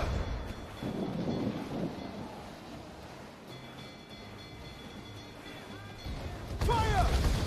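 Ship mortar fire in Assassin's Creed Freedom Cry lands as deep, rumbling booms amid wind and sea noise, with a heavy blast swelling near the end, mixed under shouted game voices.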